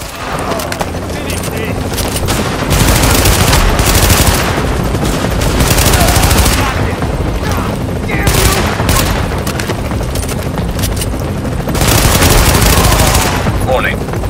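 Gunfire in the video game The Division: loud, dense bursts of automatic fire and booms come in waves, with a short lull between volleys.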